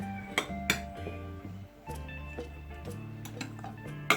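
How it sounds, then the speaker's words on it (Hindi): Nacho dough ingredients are stirred together in a bowl, with soft, irregular clinks and taps of a utensil against the bowl over faint background music. "और अब मैं करूँगी इन सब चीज़ों को अच्छे से मिक्स।"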